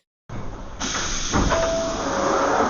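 London Underground D78 Stock train doors sliding open and shut, with a steady hiss of air, a thud, and a sustained buzzing warning tone running under it, close and fairly loud.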